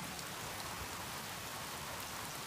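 Persistent rain falls on a high plateau, a dense, even patter of drops spread across the whole clip, steady and moderately faint with no voices.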